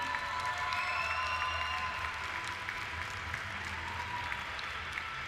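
Steady applause from spectators at an international show jumping final honoring a fourth-place rider and horse, heard at moderate distance as a continuous even wash of clapping that fades slightly.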